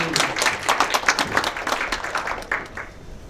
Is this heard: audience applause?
yes